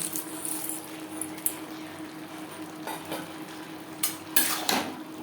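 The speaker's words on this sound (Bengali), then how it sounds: "লাউর সাথে কাঁচা লঙ্কা ও বড়ি বেশ ভালো করে মিক্স করে দেব" Bottle gourd is stirred in a pan with slit green chilies and fried lentil bori. Soft, steady cooking and frying sound plays under intermittent scraping and clinking of a spoon against the pot, with no voices.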